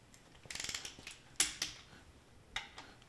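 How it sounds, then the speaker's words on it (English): A 1/8-inch-drive torque wrench ratchets and clicks while bolts on a junkyard V8 engine are torqued down. The clicks come up close in short irregular bursts with pauses between them, and no voices are heard. "I'm just gonna torque this sucker down"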